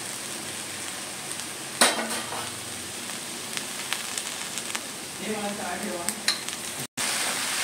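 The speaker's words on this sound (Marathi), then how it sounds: "शेगल्याची भाजी चांगली परतून घेऊया, आणि वाफेवरती आपण 5 मिनिटं ठेवून घ्यायची।" Drumstick vegetable (shevga) sizzles and sputters in a hot pan, with occasional stirring scrapes and clinks, close up and continuous.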